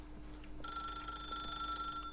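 Telephone in The Stanley Parable game rings with a steady electronic trill that starts abruptly after a moment of quiet and holds for over a second, faint and alone.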